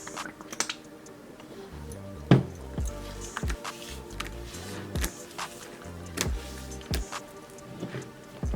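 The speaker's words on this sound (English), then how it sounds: "I'm just applying the Coconut Curls conditioner to each bundle." Conditioner being worked into wet deep-wave hair bundles makes soft, irregular squishes and wet squelches, close up, with sharper pats and clicks scattered through.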